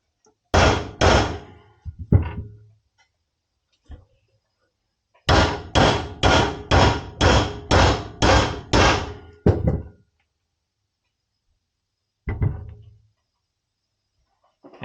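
Heavy metallic hammer blows knocking a stuck bearing seal out of a Harley-Davidson swingarm in bursts: two strikes, a pause, then a rapid run of about eight ringing hits, with a few scattered knocks after.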